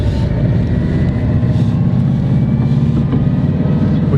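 A 1965 Porsche 356 C under way, its engine giving a steady low rumble and road drone from inside the cabin, continuous and fairly loud with no speech.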